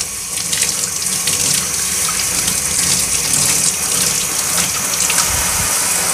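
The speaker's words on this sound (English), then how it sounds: "Water's running clear." Tap water runs steadily into a sink while a Hoover Blade vacuum filter is rinsed, a loud, close, continuous splashing gush with no talk.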